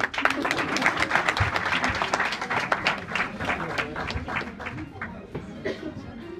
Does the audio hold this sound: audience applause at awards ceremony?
yes